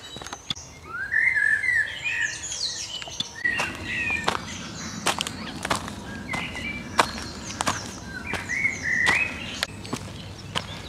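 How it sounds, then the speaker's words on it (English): Birdsong fills a woodland walk in Lickey Hills Country Park, with repeated bright chirps and warbling phrases from nearby birds over soft rustling footsteps and occasional twig snaps. "listening to the birds sing?"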